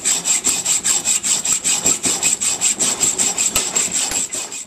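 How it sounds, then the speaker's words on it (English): A hacksaw cuts through one flat side of a steel nut in a home garage, giving steady, rhythmic back-and-forth rasping strokes, close and loud, with no talking. "simply take a hacksaw and through one of the flat sides, just split that nut, cut it down there through"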